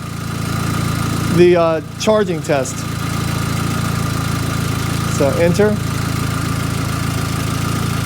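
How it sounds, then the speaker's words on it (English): A car engine idles steadily throughout a battery charging test, a constant low hum running under a man's nearby speech. "while the car is running"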